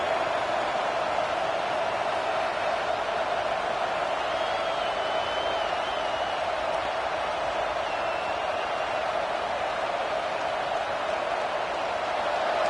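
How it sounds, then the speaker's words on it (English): A college football stadium crowd at an NCAA game against Florida roars steadily to help the defense get a stop, a dense, continuous wash of cheering that holds at an even level throughout. "this crowd coming to life here, trying to help the defense get a stop"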